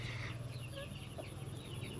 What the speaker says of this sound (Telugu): ఇక పుంజు చూడండి ఎలా ఉందో